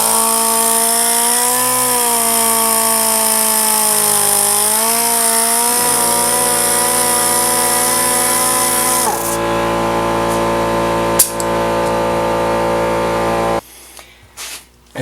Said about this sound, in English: Now this time it's going to act like a grinder, so I'm going to hang on to it.